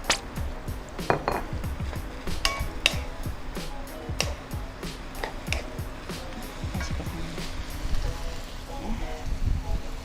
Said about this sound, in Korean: 그러니까 그때 멸치를 이거를 넣고요